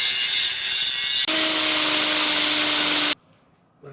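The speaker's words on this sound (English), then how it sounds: "Just grind those down a little bit." A power tool grinds down metal parts of a homemade winch bumper for a small 4x4, running loud and continuous in two bursts of a few seconds each with a brief break between them, then cutting off to near silence.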